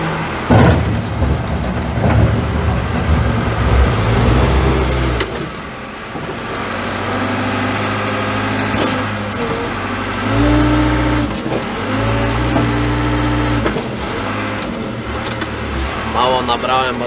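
Ursus tractor front loader working through a load of straw, its engine revving up and settling back in a steady mid-pitched drone, close and loud throughout.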